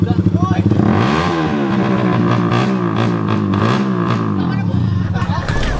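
A Suzuki Raider 150 motorcycle revs loudly through a loud aftermarket exhaust pipe, throaty and popping, rising and falling in pitch, while people talk nearby.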